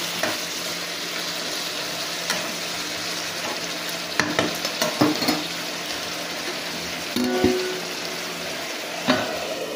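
Pieces of bottle gourd sizzle gently in a frying pan while being stirred, with occasional sharp clacks and scrapes of a spatula against the pan over a steady frying hiss.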